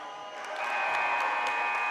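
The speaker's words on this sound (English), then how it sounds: "and then they began cheering" A basketball game student section cheering, a swelling roar of crowd voices and applause that rises after a moment and holds steady, fairly distant.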